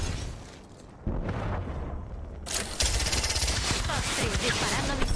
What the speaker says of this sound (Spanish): Disparando misiles